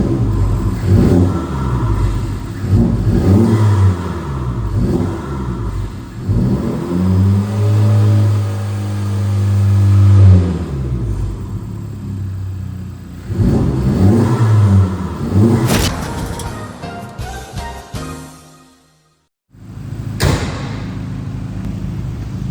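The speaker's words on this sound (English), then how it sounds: "So we'll give you some revs inside the shop here." A modified FL5 Honda Civic Type R engine revs repeatedly inside a workshop, rising and falling in several loud bursts, with a sustained hold near the middle and a brief silence near the end.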